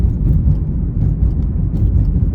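A car driving on a very bumpy road gives a steady, loud, low rumble with engine drone and faint knocks from the cabin.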